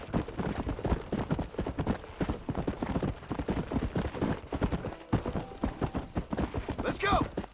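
Hooves clip-clop in a quick, busy rhythm, close and loud, with a horse whinnying briefly near the end, in the video game Red Dead Redemption.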